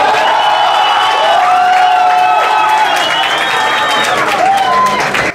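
A studio audience at a Chilean talent show claps and cheers loudly without a break, with whistles and shouts rising above the steady applause for the whole stretch.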